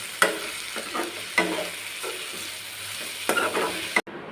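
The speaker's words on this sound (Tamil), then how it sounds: "இது எல்லாத்தையும் ஒன்றா போட்டு எண்ணெயில் வதக்கி எடுத்துக்கோங்க." Vegetables and spices for oily brinjal curry sautéing and frying in oil, a steady sizzle broken by repeated scraping strokes of stirring, close and fairly loud, with no talk.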